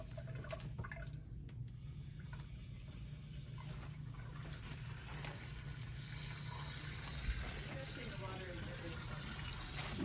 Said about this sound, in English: Opening the faucet with a paper towel. Both sides because I need warm water for my resident.